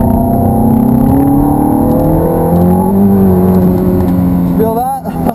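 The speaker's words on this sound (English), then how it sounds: "I want you to just gas it, and we'll see those back tires kind of light up" A Ferrari F430 accelerating hard at Hallett Motor Racing Circuit, heard from inside as a loud sustained engine drone that climbs in pitch, with a brief dip near the end.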